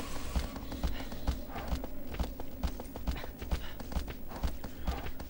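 A horse gallops across open ground in Shadow of the Colossus, its hooves pounding a quick, steady clip-clop rhythm that stays close and prominent for several seconds with no talking.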